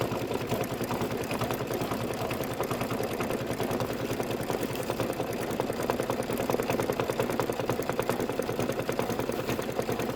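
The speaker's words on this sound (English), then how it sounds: "this is going to satin stitch just around this part right here, the little wedge part" An embroidery sewing machine satin stitches around a small wedge shape on a Kimberbell Sweet As Pie design. A fast, even mechanical buzz repeats without a break, close and steady from start to finish.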